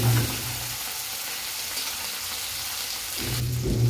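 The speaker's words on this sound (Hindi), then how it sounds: "अब इसमें कटा हुआ टमाटर डाल देंगे, अब इसको हम मिक्स कर लेंगे।" Chopped tomato and chillies sizzling in hot oil for a cauliflower sabji, a steady close frying hiss with a low hum and louder bursts at the start and end as the pan is stirred.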